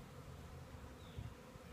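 Honey bees buzzing around an open nuc hive as it is handled, a soft continuous drone close by with slight swells in intensity and no voices.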